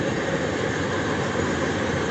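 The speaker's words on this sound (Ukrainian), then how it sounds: "Потяг поїхав." A train pulls away near Gemünden in Bavaria, Germany, making a steady, broad rumbling roar that stays at an even level throughout with no voices over it.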